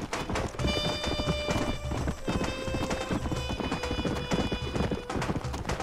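Horses galloping in Red Dead Redemption, fast rhythmic hoofbeats close by and continuous, several riders moving together under a musical score with sustained tones.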